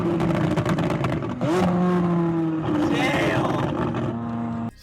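McLaren 600LT exhaust burbling and popping through downshifts, a loud, close rumbling engine note with rising and falling revs, people talking over it.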